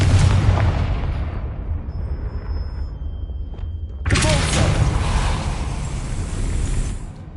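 Confringo fire spell in Hogwarts Legacy, a loud, close, rumbling explosion with a sharp burst partway through, followed by a sustained roaring crackle, with no talking.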